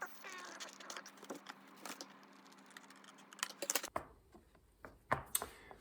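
Cardboard being cut by hand with a blade or scissors, giving a string of short, crisp scratchy snips and rasps close up, with a sharper burst of cuts near the end and no talking.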